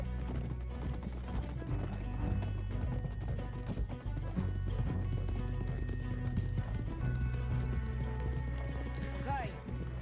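Horse hooves clip-clop steadily in Red Dead Redemption 2, a galloping rhythm running under continuous music and game sound, with talk over it.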